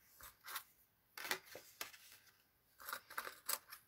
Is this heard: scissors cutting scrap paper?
yes